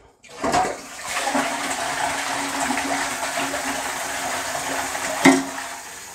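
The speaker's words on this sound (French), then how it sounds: "Voilà, donc là je vais tirer la chasse." A toilet with a leaking valve and a slow-refilling cistern is flushed: a sharp clunk of the handle, then a steady rushing gush of water that keeps going, ending with another knock, close by.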